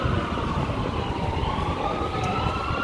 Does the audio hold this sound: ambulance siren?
yes